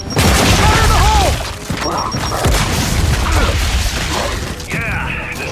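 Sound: grenade explosion in the video game Gears 5

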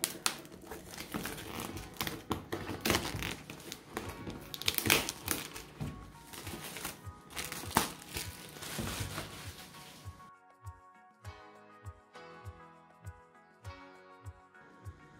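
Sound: blade cutting outer packaging seal, unboxing

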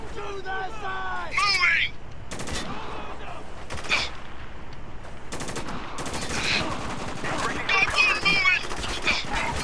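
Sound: gunfire in the video game Spec Ops: The Line

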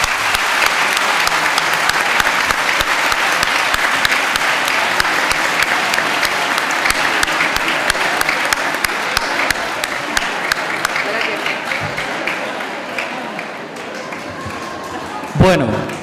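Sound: audience applause

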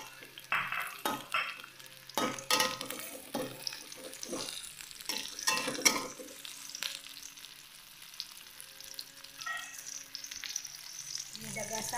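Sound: red chili frying in pan

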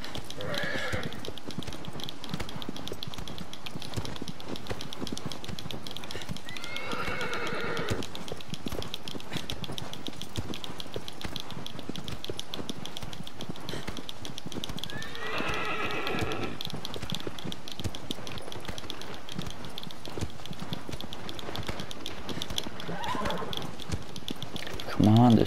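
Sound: horse galloping and neighing in the video game Shadow of the Colossus

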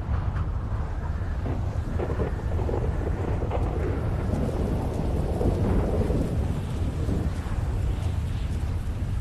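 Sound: video game rain and thunder

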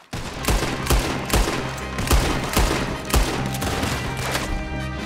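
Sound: gunfire in the video game Red Dead Redemption 2

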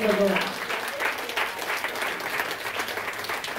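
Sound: congregation clapping hands in praise

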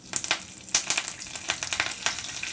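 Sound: cumin and curry leaves frying in hot oil

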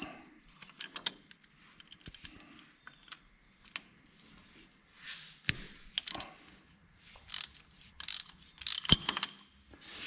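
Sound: wrench removing paint-covered bolt from tractor hydraulic pump

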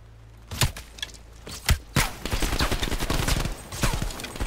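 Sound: shotgun fire in Call of Duty Cold War video game

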